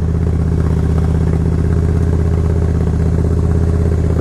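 A Yamaha V Star 1100 motorcycle engine idles steadily and loudly up close, a constant deep throbbing rumble with no revving or talk.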